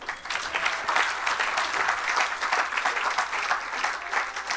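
A church congregation claps steadily and enthusiastically during a worship service, dense sustained applause filling the room with a faint voice underneath.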